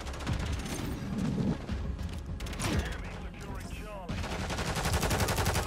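Sustained rapid automatic fire from a Holger 556 light machine gun in MW3, loud and close, with dense overlapping shots, a few louder bangs and a brief lull before the stream resumes, mixed with game noise.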